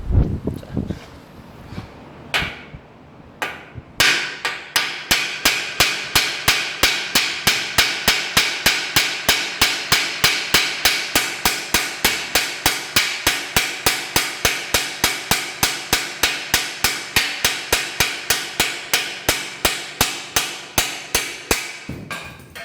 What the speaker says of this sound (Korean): 반대쪽 요 육각이 없는 상태로 망치로 쳐줍니다